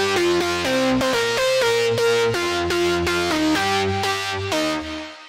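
A bright synthesized lead made in FL Studio plays a short stepwise melody of sustained notes over a low bass line, clear and prominent with no voices.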